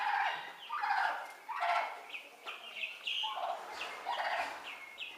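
A poultry hen clucks and calls while eating, with a steady run of soft, choppy vocalizations through the clip. The sound is close but fairly quiet, and nobody talks.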